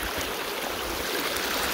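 The Río El Diamante, a river in rural Jujutla, Ahuachapán, El Salvador, flows as a steady, full, rushing wash of water that stays even throughout the short moment, with no voices.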